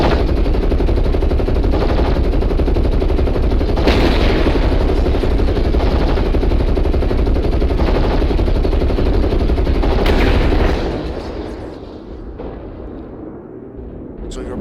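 Mech weapons firing in MechWarrior Online, a dense continuous barrage of rapid gunfire and blasts for about ten seconds, loud and close, before abruptly cutting off into quieter rumble.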